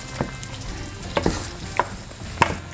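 Beef with squash and spinach stirred in a pan over a steady frying sizzle, a few sharp spoon scrapes and clicks landing at irregular intervals, close and moderately loud with no talk.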